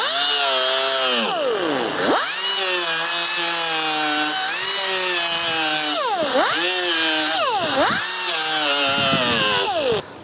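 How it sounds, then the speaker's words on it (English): A loud power sander with 60-grit sandpaper whines continuously, its pitch dipping and recovering repeatedly as it is pressed against the surface, running without pause for about ten seconds. "I'm going to sand it with a grit 60"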